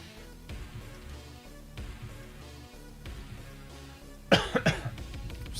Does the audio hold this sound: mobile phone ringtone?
no